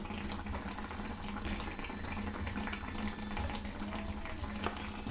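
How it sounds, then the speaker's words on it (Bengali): Rohu fish curry with mustard and poppy seed simmers in a pot, giving a faint, steady stream of small bubbling pops with a low hum underneath and no voices. "মাছের ঝোলটা ফুটছে"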